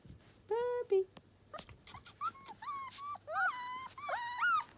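A puppy whimpers in a series of high, wavering cries, close by and fairly clear, with brief pauses between bursts and a person speaking softly to it.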